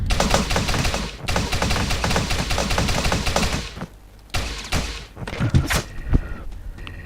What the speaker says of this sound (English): Large corridor nail gun.